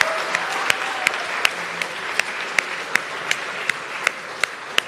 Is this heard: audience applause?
yes